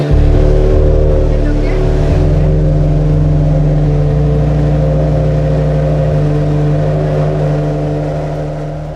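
A Ferrari FXX-K Evo hypercar engine starts and roars loudly at close range, holding a deep, steady rumble with harmonic growl that slowly eases down.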